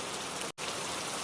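Rain and hail fall in a cartoon forest as a dense, steady hiss of drops, with a brief silent break in the middle before the downpour resumes.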